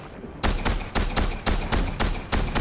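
Gunfire in Fortnite: a rapid, close, loud series of about eight sharp shots in quick bursts, with no talking over them.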